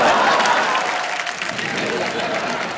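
A studio audience on the KBC game show breaks into loud, sustained applause, dense clapping with crowd noise that slowly eases off over a few seconds, alone without talk.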